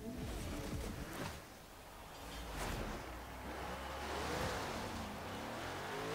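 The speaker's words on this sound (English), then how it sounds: "I'd like to see what this car can do with its normal V8." A 2005 Ford GT with its stock V8 revs and roars in Forza Horizon 3 during a Blizzard Peak hill climb, the engine note rising and falling with a steady, moderately distant rumble and no talking.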